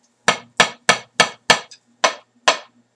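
Sharp, dry stick strikes on a pad, about eight evenly spaced taps, each a crisp click with a quick decay and nothing else around.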